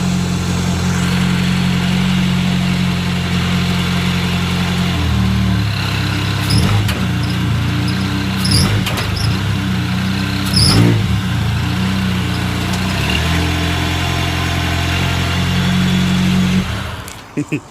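A BMW G20 engine with worn motor mounts idles steadily and loudly up close, with a shift in pitch partway through, a few brief sharp knocks, and a sudden drop near the end as it nearly stalls.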